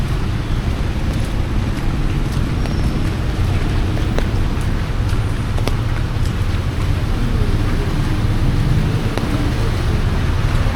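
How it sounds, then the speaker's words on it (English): Steady heavy rain in Luang Prabang, Laos, a dense continuous hiss with low rumbling underneath and a few sharp drips or taps, with no distinct thunderclap standing out. "The rain is stopping now."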